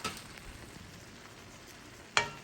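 Quiet frying and stirring as onion goes into a pan of chicken gizzards for a Haitian dish, with a low sizzle, a few soft scrapes and one sharp clink near the end.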